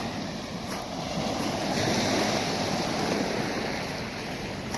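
Ocean surf washes steadily onto a beach at night, a continuous roaring wash of waves with some wind noise on the microphone.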